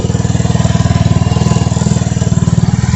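A 2021 Vitacci 150cc scooter engine idles steadily after a carburetor and fuel system upgrade, a loud, close, even putter with a fast regular pulse and no speech over it.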